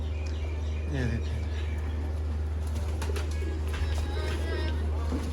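Pigeons coo softly amid wing flutters and a constant low hum, with someone talking throughout.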